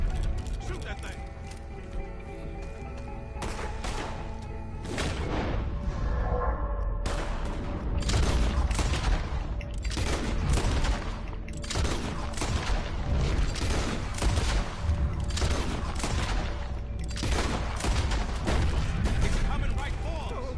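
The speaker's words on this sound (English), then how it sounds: "Keep shooting." Gunfire in Red Dead Redemption 2 rings out as a dense, continuous volley of loud shots, with rapid bursts that overlap one another and voices talking underneath.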